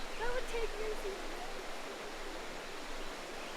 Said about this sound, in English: look how fast this water is rushing